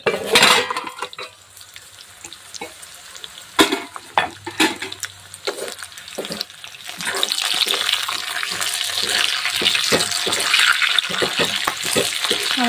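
A lid goes onto a pan of chillies roasting over low gas: several metallic clanks and knocks of cookware ring out early, then a broad steady sizzle settles in under the covered pan.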